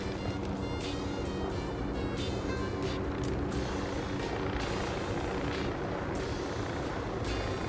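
Helicopter approaching in the video game Ghost Recon: Wildlands, a steady, loud rotor and engine drone that holds throughout with no talk over it.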